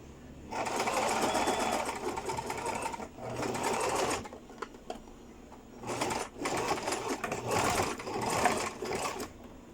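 Sewing machine stitching a waistband onto a skirt, close and loud, running in several bursts of rapid needle clatter separated by short pauses.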